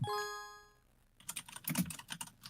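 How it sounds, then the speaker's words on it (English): Rapid, uneven clicking of computer keyboard keys being typed on, close and moderately loud, following a brief bright chime that rings out at the start. "Sorry if you hear me typing."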